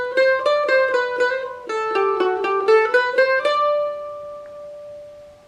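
Mandolin picks the opening phrase of the solo, a quick run of bright plucked notes played close, ending on a ringing sustained note.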